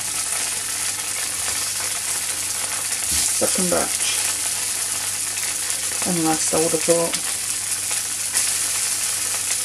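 Steady oil sizzle and crackle from beef frying in a wok for Peking beef, with someone speaking briefly twice over the constant hiss.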